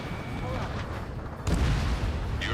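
Artillery fire support strike in Ace Combat 7, a loud dense rumble of impacts with a heavier boom arriving partway through, amid constant battle noise and radio chatter.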